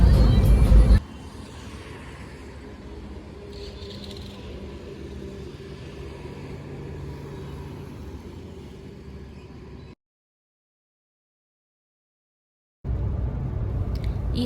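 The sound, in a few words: car driving on highway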